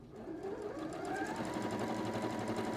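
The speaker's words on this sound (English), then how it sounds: "I'm just going to sew on it with this fabric." Juki HZL-LB5100 sewing machine stitching through quilting fabric, a steady rapid mechanical whir with even needle clatter running continuously and close, no voices over it.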